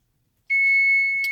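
A kitchen timer beeps once, a single loud, sustained high electronic tone starting abruptly after silence while chicken cooks on the stove.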